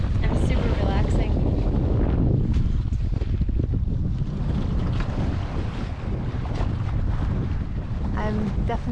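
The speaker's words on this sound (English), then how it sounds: "that feeling of turning off the engine, and then just being under the power of the wind" A sailboat moves under wind power alone with the engine off, heard as steady, loud wind buffeting the microphone over rushing water and waves against the hull, with a voice speaking faintly through it.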